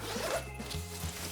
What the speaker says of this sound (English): And there's also a second zipper